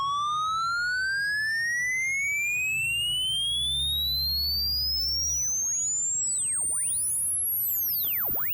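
A rising sine test tone sweeps upward through a soft limiter plugin, with aliasing artifacts as mirrored tones gliding up and down around it and a low hum underneath, steady throughout with no talking.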